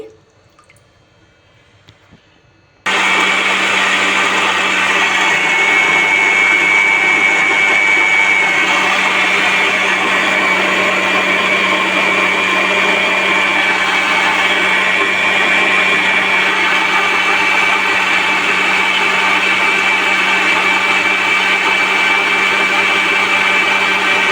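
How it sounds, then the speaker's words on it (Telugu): After a short quiet moment, a mixer grinder switches on and grinds millet dosa batter continuously with a loud, steady whine until the end. "కొంచెం కొంచెం వేసుకొని మిక్సీ జార్కి ఎంత పడితే అంత కొంచెం కొంచెం వేసుకొని మిక్స్ పట్టేసుకోండి"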